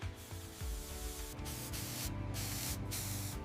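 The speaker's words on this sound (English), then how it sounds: "A high-pressure spray of organic egg wash" Organic egg wash is sprayed onto croissants on an automated factory production line in a continuous, loud, close high-pressure hiss over a low machine rumble, with brief dips as the spray pulses.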